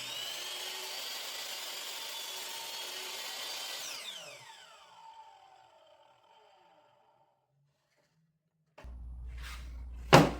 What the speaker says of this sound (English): set it against a jig at the end of the saw, double-check the alignment, and make the second miter cut